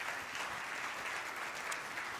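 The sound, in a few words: audience applause at a banquet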